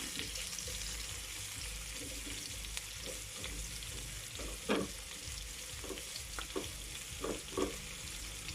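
Sliced onions sautéing in a pan with browned garlic for a Kapampangan bitter gourd stir-fry, giving a steady close sizzle, with a few sharp clinks and scrapes of stirring near the end and no talk.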